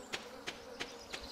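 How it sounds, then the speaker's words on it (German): Bees buzz in a farm game, a faint steady hum with four evenly spaced soft pulses repeating about every third of a second. "Ich höre nur Bienengesumme."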